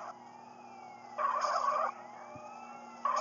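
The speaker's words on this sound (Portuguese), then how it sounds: "vem um ah, corpo de bombeiro" A fire truck siren in GTA San Andreas wails in rising and falling sweeps over steady engine and game ambience, with a louder burst partway through. The siren stays fairly close and moderately loud.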